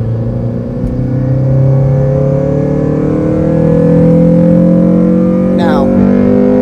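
A Honda Civic Si FA5 accelerating hard as VTEC engages, its engine note climbing steadily and loudly from inside the car, with a voice briefly heard over the rising roar.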